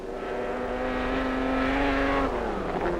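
Ferrari race cars roar past at close range on a race circuit, a loud engine note that holds steady and then drops away as they go by, with no voices over it.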